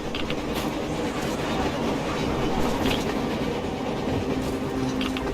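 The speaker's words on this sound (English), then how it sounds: "A train! A damn train!" A train rolls past in the Metro Exodus video game, a loud continuous rumble of wheels with rhythmic clickety-clack and occasional metallic squeals, no voices heard.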